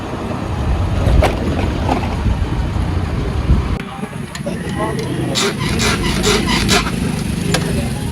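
A motorcycle engine runs steadily just after being started, a continuous low rumble throughout, close by, with voices talking over it.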